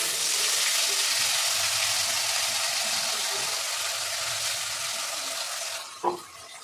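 Spice paste of ground ginger, tomato and cumin sizzling in hot oil for a vegetarian paneer dish, a loud steady hiss that eases near the end before a brief clunk.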